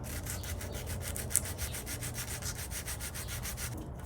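Sandpaper rubs steadily on a Saab 9-3 alloy wheel to remove curb rash, producing a continuous rhythmic scratching heard up close with a faint brief click partway through.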